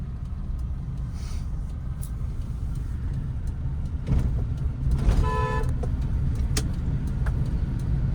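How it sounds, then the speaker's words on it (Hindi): A steady car engine hums close by in a narrow lane, then a car horn sounds once for about half a second over the idling rumble. "तो जब भी हॉर्न बजाइए 2-3 सेकंड तक कंटिन्यू बजाइए।"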